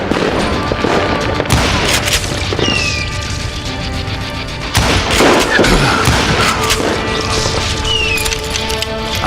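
Gunshots in the western video game Call of Juarez Gunslinger, a loud barrage of repeated shots and booming blasts with crashing impacts, layered over game music across the whole stretch.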